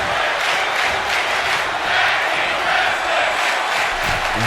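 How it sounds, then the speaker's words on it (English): A wrestling arena crowd roars with cheering and shouting in a dense, sustained wash of noise, loud throughout with no pause. "You hear the crowd."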